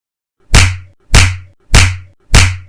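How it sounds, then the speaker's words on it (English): Four loud slaps to the face as an audiobook sound effect, sharp smacks evenly spaced about 0.6 seconds apart, each with a brief decaying tail, close and isolated without speech. "The sound of the slaps almost formed a symphony."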